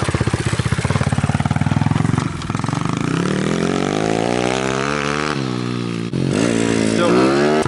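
A dirt bike engine revs loudly and continuously, its pitch climbing and falling as the throttle opens, with some voices mixed in.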